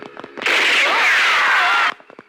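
A gunshot in a Tamil film scene bursts out loudly and rings with a long, bright echoing tail lasting over a second, framed by short faint clicks before and after.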